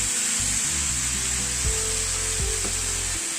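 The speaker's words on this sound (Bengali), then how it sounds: "টমেটোটা দিয়ে একটু নাড়াচাড়া করছি" Chopped tomato frying and being stirred in a pan of spinach and fish-head chhechra, a steady close sizzle with soft scraping strokes of the spoon.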